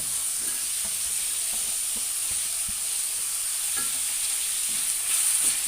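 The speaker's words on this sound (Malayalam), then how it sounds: "ഇതെല്ലാം കൂടി ഒന്ന് വാട്ടി കൊടുക്കാം ക്യാരറ്റിനൊന്നും വേവില്ലല്ലോ" Carrots and capsicum sauté in a pan for a dish made from leftover biryani, a constant close hiss of frying broken by soft, irregular clicks and scrapes of stirring, with no voices.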